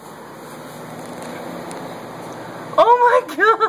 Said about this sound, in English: We put a light bulb in the microwave.